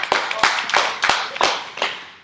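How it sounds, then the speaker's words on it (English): A group claps during a personal development meeting, a sparse cluster of sharp, separate hand claps in an irregular rhythm, fairly close and alone with no talking over it. "Let's clap it for Jay."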